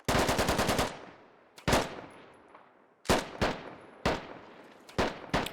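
Gunfire in the video game Squad aimed at an MRAP's turret: a rapid burst of shots, then separate sharp single cracks and short bursts, loud and close, each trailing into a ringing echo.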